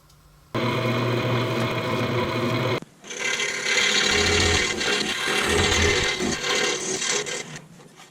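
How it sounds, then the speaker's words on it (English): A blade entry hole being drilled into a wooden piece, then the piece cut on a scroll saw: a short steady whir, then a close, continuous rasping buzz from the reciprocating blade. "We're going to drill a blade entry hole in this waist area right here, and then we're going to cut it out at the scroll saw."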